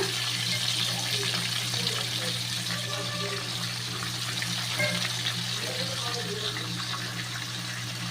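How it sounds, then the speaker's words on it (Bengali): Constant hiss of a rohu fish head frying in hot oil, steady and close throughout, with a faint low hum underneath. "মাথাটা হোক একটু ভাজা"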